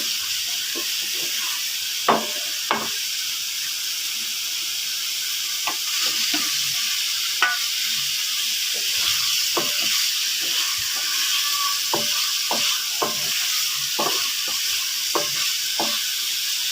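Eggs being stirred into fried masala for an egg curry: a constant oily sizzle with a series of sharp spatula taps and scrapes against the pan at irregular intervals, close and without speech.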